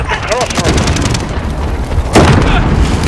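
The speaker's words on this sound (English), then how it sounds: "Enemy precision airstrike." Precision airstrike in Call of Duty Modern Warfare online play, heavy booming blasts over continuous battle noise, with a sharp loud impact late on and game voice talking over it.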